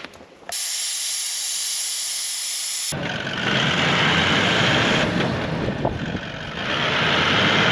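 Air hisses loudly and steadily from a 4x4's tires as they are let down in soft sand, one harsh continuous jet joined partway through by a second, broader hiss, close and with no voices.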